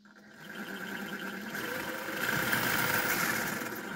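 Whining electric motor of a Rlaarlo XDKJ-006 RC car accelerating, rising buzzy drone with a mechanical rattling texture that swells louder toward the middle and holds steady, close by and without talking.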